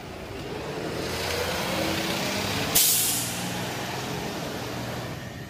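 A large city bus pulls away near a bridge in Boston, engine rumbling low under outdoor noise, then a sharp hiss of released air brakes bursts out midway before the drone carries on.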